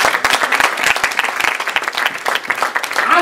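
A church congregation claps in praise, many sharp individual hand claps layered into a lively, uneven burst of applause that rises and dips over a few seconds.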